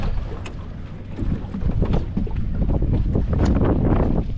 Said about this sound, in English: Oh, the wind pushing us.